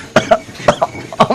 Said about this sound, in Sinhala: වටේ පිට හැමෝටම කැස්සක් එනවා මට එනවා.